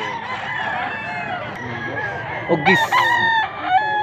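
Roosters crow and cluck close by on a rural farm in Mantalungon, Cebu, with one loud drawn-out crow near the end, over a constant background of other birds and a brief spoken word.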